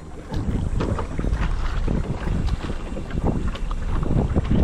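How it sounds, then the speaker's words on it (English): Steady wind gusting across Eagle Mountain Lake while paddling a sit-in kayak on choppy water, with constant rumbling buffeting on the microphone and splashy water noise underneath, no talking. "Oh, it's getting a little bit more windy."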